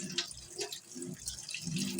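Tap water splashes and drips steadily while grated potatoes are rinsed in a kitchen to remove their starch, a continuous close wet sound.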